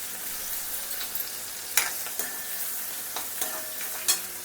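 Onion sautéing in hot oil in a pan, a constant bright sizzle close by, broken by a few sharp scrapes and taps as a spoon stirs it, with no voices.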